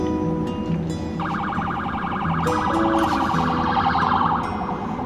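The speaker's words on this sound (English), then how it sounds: "Well, another ambulance." A passing ambulance siren warbles steadily in a fast, pulsing pattern above a constant drone of traffic in Arcadia, Florida, moderately loud and sustained throughout, with no voices.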